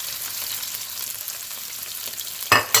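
Carrots being stir-fried for fried quinoa, with a steady soft sizzle throughout and two louder scraping stir strokes near the end, close by.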